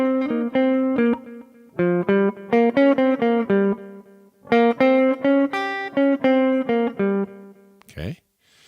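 An electric guitar plays bluesy solo phrases, a run of distinct picked notes with bends and repeated figures in two bursts, separated by a short pause, ending with a brief noisy strum.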